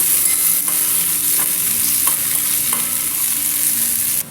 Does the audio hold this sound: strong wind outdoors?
no